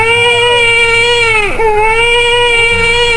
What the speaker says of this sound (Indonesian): Herman yang menunggu di luar mendengar suara tangisan bayi.